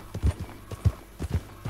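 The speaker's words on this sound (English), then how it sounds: "there's your character riding your horse all the way to the waypoint" Horse hooves clop steadily as a rider travels in the video game Red Dead Online, an uneven rhythm of dull, close thuds that repeats several times over a light background hiss.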